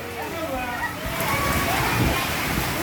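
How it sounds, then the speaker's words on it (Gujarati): Rainwater rushes and sloshes steadily through a village during a violent storm, a continuous watery roar that swells louder partway through, with people talking over it. "હા પાણી પાણી ચાલે છે"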